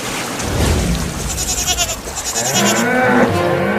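A goat bleats several times in quick wavering calls over a noisy, rushing background, fairly close and loud.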